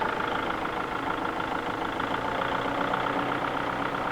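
A tractor engine with a limb saw attachment runs at a steady, even drone, close and continuous, with no clear rise in pitch.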